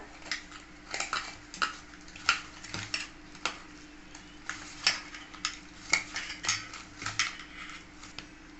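Poha dough with roasted cumin-coriander powder and chopped coriander leaves is mixed in a bowl, producing a series of irregular clinks and soft scrapes against the vessel, close and fairly quiet, with no speech.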